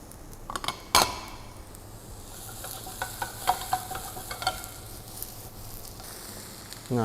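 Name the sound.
shimeji mushrooms frying and being stirred in a pan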